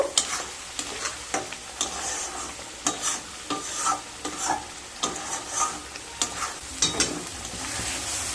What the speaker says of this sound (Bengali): আবারও খুব ভালো মতো মিশিয়ে নেব। মিশিয়ে নিয়ে লো টু মিডিয়াম স্টিমে 1 মিনিট রান্না করে নেব।